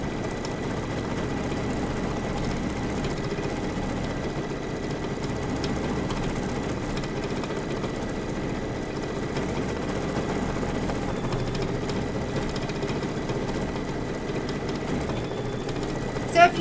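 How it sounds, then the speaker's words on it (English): Embroidery sewing machine stitching a leaf fill in black thread, a continuous close mechanical hum and rapid needle rattle running steadily, with a brief knock near the end. "we're gonna do some more stitching, or some more leaf fill"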